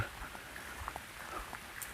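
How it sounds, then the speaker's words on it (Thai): Rain falls steadily in a mountain forest, a soft even patter of drops at moderate distance with no voices. "แต่ว่าฝนมา"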